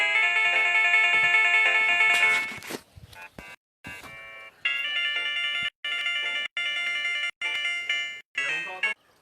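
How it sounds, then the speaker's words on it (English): A phone ringtone plays a loud, bright electronic melody that cuts off briefly, then returns in repeated bursts with short gaps between them. Faint voices can be heard in the background. "You have a phone call?"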